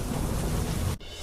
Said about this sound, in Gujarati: ખેડા જિલ્લામાં મેઘરાજા ધોધમાર વરસાયા